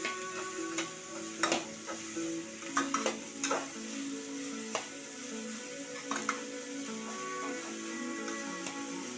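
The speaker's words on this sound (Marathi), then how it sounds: "गॅस मोठा करूनच परतवायचे आहेत" Onions sautéed on high flame in a pan for a Marathi chicken gravy, a steady sizzle with scattered sharp clicks and scrapes of stirring, alone and moderately close.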